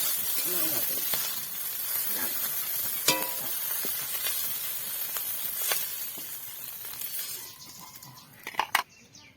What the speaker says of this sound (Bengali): চিংড়ি মাছ ভাজা হয়ে গেছে, চিংড়ি মাছ আমি নামাবো।